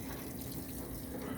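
Water pours steadily into a GE top load washing machine filling on a bulky items cycle with deep fill, a constant close rushing wash with no break.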